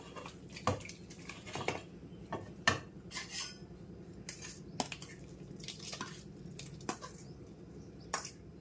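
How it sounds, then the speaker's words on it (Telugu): Prepared food is scraped into a bowl with a utensil: soft repeated clinks and scrapes of metal on a vessel, with wet squishy sounds, close and quiet, in an irregular rhythm. "ఇప్పుడు ఇదంతా గిన్నెలో వేసేద్దాము."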